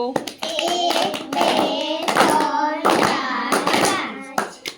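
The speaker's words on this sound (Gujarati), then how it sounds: "ચલો પાંચ લાડુ તાળી પાડો" Children in a classroom clap in several bursts of sharp, close hand claps, with young voices chanting and calling out loudly alongside them.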